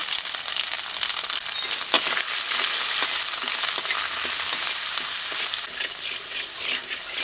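Cumin, ginger and chilli paste with turmeric frying in a pan, a steady loud sizzle with crackles and a few stirring scrapes throughout, no talk.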